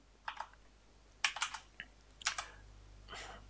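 Typing on a computer keyboard while entering a code string in a Visual Basic editor: a few separate bursts of quick key clicks, close and fairly quiet, with short pauses between them.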